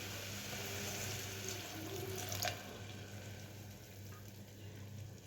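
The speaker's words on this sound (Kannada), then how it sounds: "ನಾಲ್ಕು ಬೌಲ್ ನೀರು ಹಾಕ್ತಾಯಿದ್ದೀನಿ." Four bowls of water pour into a frying pan of fried vermicelli (shavige), a quiet, continuous rushing stream with a faint sizzle. The pour eases briefly midway.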